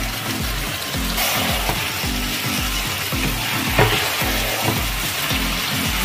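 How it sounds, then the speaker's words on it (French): Mushrooms fry in a pan of turkey stew with a loud, constant sizzle, while rhythmic stirring scrapes and knocks repeat roughly every half second, up close and with no voices. "Là maintenant, j'ajoute donc les champignons."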